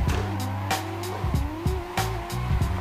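Racing video game car skids as the e-brake is pulled, producing tire squeal over a steady engine drone with repeated sharp bursts, fairly quiet overall.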